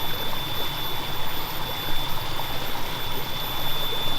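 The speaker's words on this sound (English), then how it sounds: "So there'll be a murky stream of water flowing out to sea from the river mouth." Murky floodwater pours steadily out of a river mouth toward the sea after heavy rain, a constant broadband rushing wash with no talk.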